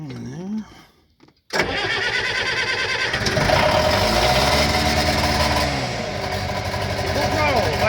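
A Bobcat 825 skid steer diesel engine is cold started at about 70 degrees: a brief voice and a short crank give way to the engine catching and settling into a loud, steady, rattling run, with rising and falling revs.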